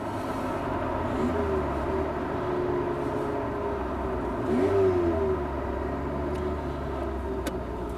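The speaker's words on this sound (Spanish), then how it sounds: "Fijaos, 2000 vueltas en quinta, cuesta arriba. No vibra nada, no se queja." Steady low engine drone of a Renault Alpine A310 V6 at 2000 rpm in fifth gear climbing uphill, with a gentle rise in pitch around the middle, a smooth continuous hum at moderate loudness without vibration or strain.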